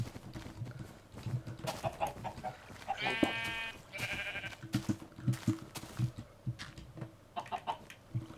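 Minecraft sheep bleat a few times among scattered chicken clucks and game sound effects, with the animal calls standing out clearly.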